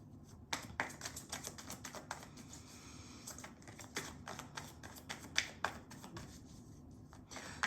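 Tarot cards being drawn and handled during a weekly tarot reading, with soft, quiet crisp shuffling and slapping clicks scattered in an irregular rhythm close by, and no talking.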